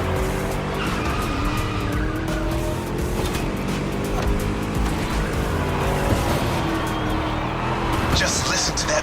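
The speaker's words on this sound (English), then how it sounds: "Just listen to that V8, like a chonky, down-tuned guitar riff" V8 engine of a race car in the driving game The Crew Motorfest, a loud, rumbling, continuous engine roar with tire squeals as the car speeds around a track, with talking over the top.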